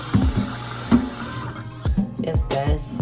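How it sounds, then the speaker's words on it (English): Tap water running and splashing into a pot at a kitchen sink for Jamaican goat head soup with pimento, garlic and ginger, a steady pour with several clunks and splashes of the stream shifting against the pot. "I'm gonna use this amount of water just above it"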